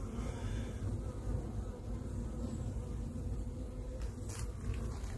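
Honeybees buzz steadily inside a hive full of stores, a dense, continuous close drone with no voices.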